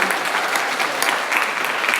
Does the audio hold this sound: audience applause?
yes